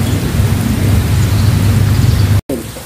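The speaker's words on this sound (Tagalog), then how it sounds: "Naghihintay sila lang paggupa ng ulan na hanggang ngayon ay ayaw pong uminto." Heavy rain pours steadily with a deep rumble of thunder underneath during a rainy fishing trip, loud and close, dense and unbroken until a brief dropout near the end, with no talk.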